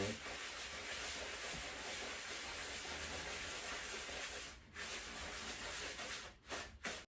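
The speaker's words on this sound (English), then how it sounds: "so I'm just going to get some kitchen roll and rub that off" Kitchen roll rubs across a surface while a plain sponge cake is made, giving a steady close, papery scrubbing hiss that runs almost unbroken for several seconds before a few short pauses near the end.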